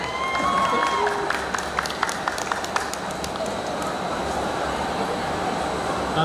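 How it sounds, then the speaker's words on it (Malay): At a beauty talk event about Botox, a crowd claps steadily for a volunteer called up front. The applause is a continuous, moderately loud patter, with crowd murmur and voices mixed in. "Bagi tepukan sikit."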